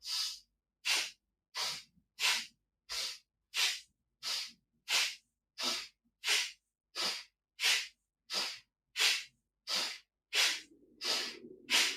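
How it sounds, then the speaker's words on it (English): Forceful rhythmic breath of fire during a guided meditation: about fourteen sharp, evenly spaced breath bursts, loud and close, with a low rumble entering near the end. "So you can hear the sound of my breath."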